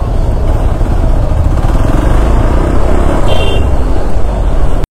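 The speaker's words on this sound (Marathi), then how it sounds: "ट्रॅफिक तर संपायचं नावच नाही घेत." Heavy road traffic heard from a motorcycle stuck in a long queue on the Mumbai–Konkan route near Mangaon: a loud, steady rumble of engines and road noise, with a brief horn toot partway through.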